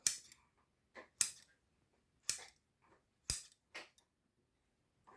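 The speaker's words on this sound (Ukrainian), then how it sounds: "І ножицями робимо декілька надрізів, ось так." Scissors snipping cuts into soft bread dough, a series of about six crisp, close snips spaced irregularly with quiet pauses between them.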